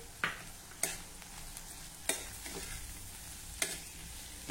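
A dry French bean stir-fry with grated coconut sizzles quietly in the pan, with four sharp scraping stirs of a spatula at regular intervals.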